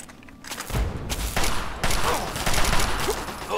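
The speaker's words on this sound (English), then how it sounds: "let's put the Chinese assault rifle through its paces" Chinese assault rifle firing in Fallout 3: rapid bursts of automatic gunfire, loud and close, repeating through the clip with short gaps between volleys.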